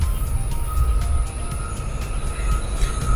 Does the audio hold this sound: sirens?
no